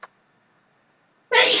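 A single sharp sneeze bursts out near the close, loud and close, after a short faint click and near silence.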